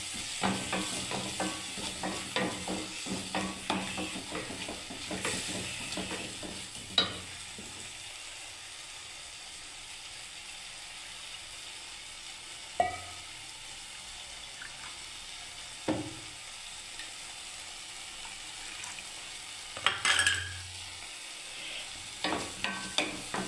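Tomato paste is stirred into a vegetarian cauliflower curry frying in a pan: a soft, quiet sizzle with occasional sharp clinks and scrapes of the spoon against the pan at irregular intervals.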